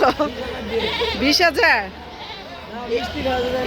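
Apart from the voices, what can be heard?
goats bleating at a livestock market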